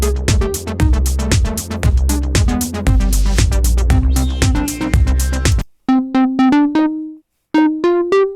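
A bright synthesizer melody over a pulsing bassline and beat, then the lead line plays on alone in short, clean phrases with brief pauses.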